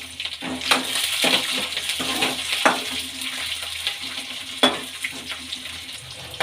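Garlic and green chillies frying in hot oil in a pan, a bright continuous sizzle with sharp crackling pops and bursts as the ingredients are stirred, with no talking.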